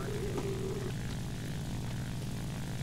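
A Ki-84 propeller fighter in War Thunder drones with a steady, loud, even engine note throughout, carrying no speech.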